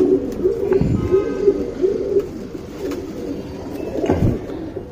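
A male and female pigeon pair coo close by, repeating low throaty rolling calls in a steady rhythm with brief flutters between them.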